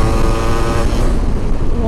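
A restored Yamaha RX135 two-stroke motorcycle engine revving up close, loud and raspy with a buzzing, sustained roar that swells and holds.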